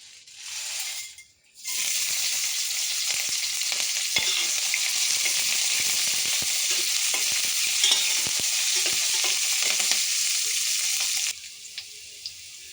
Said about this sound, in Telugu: లవంగాలు, సాజీరా, ఇలాచీ, 1/2 టీ స్పూన్ మిరియాలు, ఇవన్నీ అందులో వేసుకొని వేపుకోవాలండి